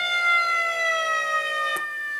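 Rottnest eurorack VCO with twofold wavefolding, a sustained buzzy harmonic synth tone with slowly drifting overtones, ending in a brief click as the setting changes.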